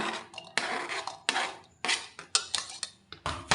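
Chopped onion dropped into a bowl while making ukoy fritters, a run of short clattering knocks and scrapes of utensil against dish, close by, with no talk.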